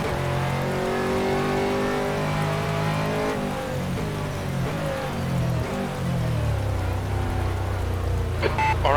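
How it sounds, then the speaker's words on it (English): Heavy rain falls in the rFactor racing game during a wet GT3 race at Sepang, a steady wash of rainfall that persists under an Aston Martin GT3 engine rising and falling through revs. "you can hear the sound of the rain has abated slightly"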